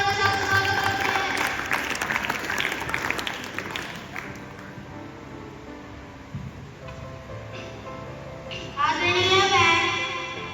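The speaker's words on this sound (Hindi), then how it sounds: "जोरदार तालियों के साथ स्वागत करते हैं" Applause from a school audience at a Teacher's Day function welcoming a sixth-grade student performer, clapping mixed with crowd noise and children's voices, fading midway before a louder burst near the end.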